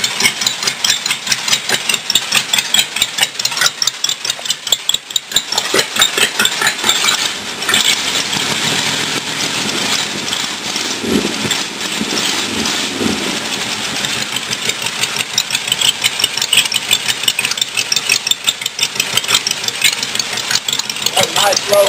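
An old rat rod roadster engine running loud and close, a rough, rapid, steady idle with pulsing exhaust beats and a brief low rumble midway, continuous over the whole stretch.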